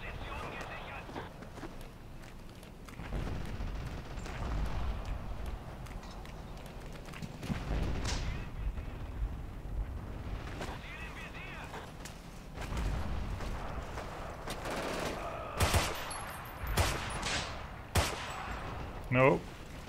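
Flak and gunfire in the WWII shooter Forgotten Hope 2, with a steady rumble of distant firing throughout and sharper, louder shots and bursts near the end.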